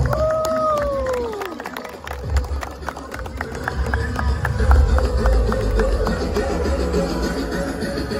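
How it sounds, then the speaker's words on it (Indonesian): Audience in a prison hall at a hip-hop performance in Merauke, Papua bursts into applause and cheering after a falling whistle-like tone, with dense clapping, shouts and crowd babble building loudly throughout. "Berikan tepuk tangan yang meriah"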